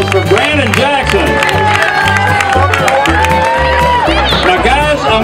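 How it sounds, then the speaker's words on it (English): An audience crowd claps and cheers for Brandon Jackson at a crosscut saw event, a loud continuous roar with a voice over it. "Let's have a big round of applause for Brandon Jackson."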